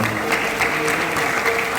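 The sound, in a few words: audience applause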